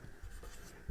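A marker or chalk scratches across a board during a school physics lesson on light, a brief, fairly quiet stroke heard on its own with a soft tap at the end.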